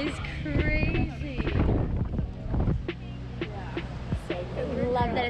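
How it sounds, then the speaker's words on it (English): Gusty wind buffets the microphone at an outdoor 27-metre high-diving platform, a steady low rumble throughout with voices and movement around it. "It's kind of windy."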